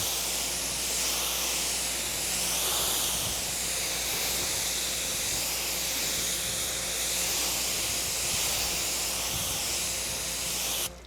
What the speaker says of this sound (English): Then I'm gonna spray it down right away